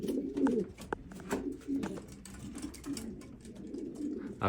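A racing pigeon in a home loft coos in soft, throaty murmurs, close by, with repeated low rolling calls and faint rustles and taps from the coop between them.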